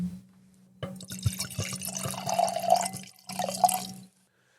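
Wine is poured into a second glass: a close, liquid glugging pour with a brief interruption, then a short final splash before it stops.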